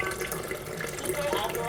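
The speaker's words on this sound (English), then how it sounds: "now I'm just going to turn off the water flow for a second because I'm going to empty this water" Water runs steadily from the tap of a Super S12 water ionizer into a container, a continuous splashing hiss at close range. A voice talks over it.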